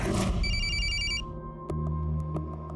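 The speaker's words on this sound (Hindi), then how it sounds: "एक रात अचानक उसका मुझे फोन आया।" Telephone bell ringing in a Hindi crime drama scene at night, a short burst of electronic ringing near the start that cuts off, followed by a low dramatic hum with a few sharp hits; no talk.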